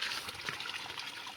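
Natural spring water flowing out of a hillside stream in Uttarakhand, a continuous bubbling gush and trickle, close by and fairly quiet, with no voices.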